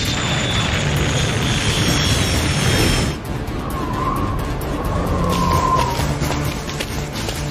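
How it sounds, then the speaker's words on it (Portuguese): Cartoon-style jet aircraft landing effect: a loud, sustained engine roar with high whine that drops after about three seconds into a lower rumble with faint tonal sweeps. "Vamos pousar os jatos."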